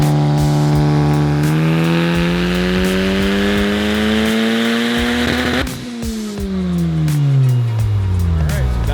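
A tuned 2024 Honda Civic Type R, making about 500 horsepower on a stock OEM clutch, pulls hard on a dyno, its engine note climbing steadily and loudly, then dropping sharply after a shift or lift before winding back up.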